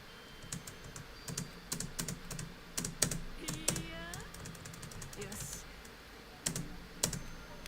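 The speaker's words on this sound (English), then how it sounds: "Can y'all hear my clicking? My aggressive clicking?" Computer keyboard keys get clicked hard in quick, irregular bursts, close and sharp, with short pauses between flurries and faint talking murmured underneath.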